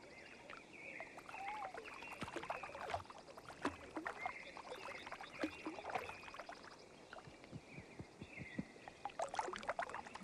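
A wood duck drake paddles away across the water with soft, steady splashing and rippling, while frequent bird chirps and calls sound close by throughout.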